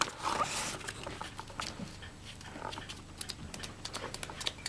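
Fine 1000 grit wet dry paper rubs over the rim of an antique blue glass jar in short, rasping strokes that come one after another, close and moderately quiet, with no voice.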